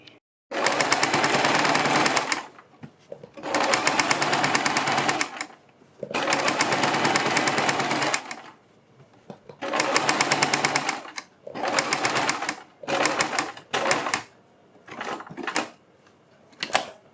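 A sewing machine stitches along a kurti neckline, running in several loud bursts of a few seconds each, separated by short pauses, with a quicker run of stop-start stitching near the end.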